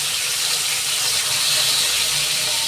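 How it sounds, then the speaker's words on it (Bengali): Pieces of rui fish frying in hot oil make a steady, loud, even hiss with no breaks and no voices. "মাছগুলো উল্টিয়ে পাল্টিয়ে আমি লালচে করে ভেজে নেব।"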